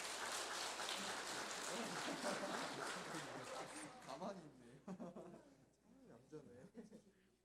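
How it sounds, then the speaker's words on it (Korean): Congratulatory applause from a church congregation during a Sunday worship service: a sustained burst of clapping fills the first half, then fades out as a person starts speaking. "이 시간 한번 축하의 박수 하시겠습니다."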